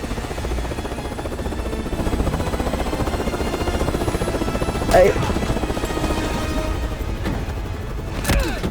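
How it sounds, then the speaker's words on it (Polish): A helicopter in the video game Call of Duty Black Ops 6 thrums with a steady rotor buzz. Game gunfire and a couple of sharp bangs cut through it. "Trzymajcie helikoptera, nie puszczę go."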